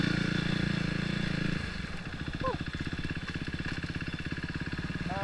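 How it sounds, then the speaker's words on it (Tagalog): A KTM RC390 motorcycle engine revs, then settles into a rapid, popping exhaust rhythm of crackling backfires, fairly near, with faint chatter in the background. "Yan, bumabaktar eh."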